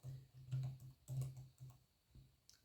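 Rapid clicking of a computer keyboard, several keystrokes in short bursts, close and fairly quiet with a low hum underneath.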